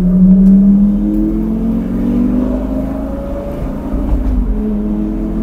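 A supercar's exhaust roars loud and close as the driver downshifts under braking with ceramic brakes, a deep droning growl that dips and swells through the gear changes.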